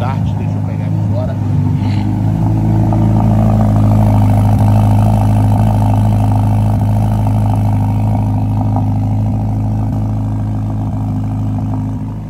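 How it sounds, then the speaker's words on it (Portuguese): A Ferrari Roma engine cold-starts and settles into a loud, deep, steady idle with a faint mechanical clatter, close by. "vou ligar o carro, já dá para escutar o ponto, cold start"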